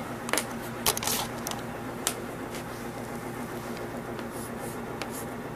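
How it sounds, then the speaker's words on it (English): A pen writes numbers on paper beside a flywheel free energy test rig, giving a few sharp scratchy taps and strokes over a steady low machine hum. "So I'm going to write this down."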